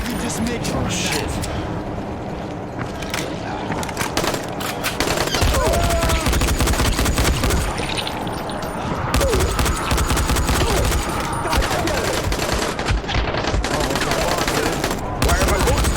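Gunfire in the video game Dying Light, bursts of rapid shots running nearly the whole time, loud and dense, with a voice talking over parts of it.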